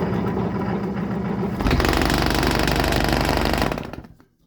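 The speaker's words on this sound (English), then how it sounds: "Here's a little demonstration on what happens on the drill press." A drill press in a woodworking shop runs with a steady mechanical whir that jumps louder midway as it loads up, holds for a couple of seconds, then cuts off and spins down into quiet.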